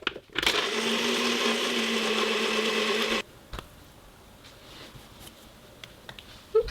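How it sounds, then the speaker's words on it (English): Kitchen blender whirring loudly as it purées a frozen banana smoothie, a steady motor roar lasting about three seconds before it cuts off, followed by faint clicks and handling noises. "And then I just blend it all up and have that for breakfast"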